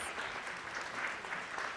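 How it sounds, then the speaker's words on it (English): A church congregation at a Sunday worship service claps steadily and softly at a distance, a faint even patter with no voices over it. "And yes, you can clap."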